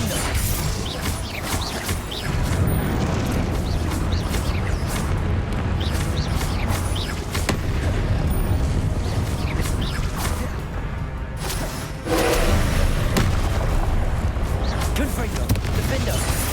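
Repeated Confringo blasting spell explosions and crashes in the Hogwarts Legacy video game, dense and loud throughout, with whooshing spell casts and a heavier burst near the end.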